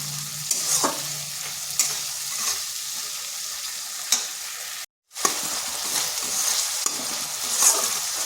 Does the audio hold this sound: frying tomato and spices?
yes